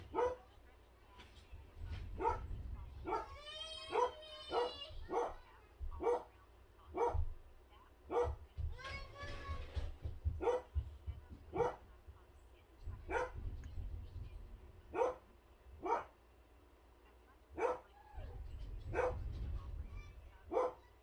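Several dogs bark excitedly in sharp repeated bursts, close and loud, with occasional whimpers and yips, while a person talks at times in between.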